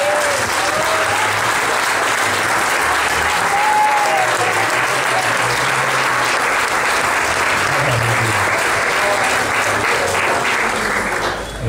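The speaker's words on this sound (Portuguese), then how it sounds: "Você pode aplaudir ao Senhor." A church congregation applauds during a worship service, producing a long, dense and even wash of clapping. The sound stays loud and steady throughout, with no talking over it.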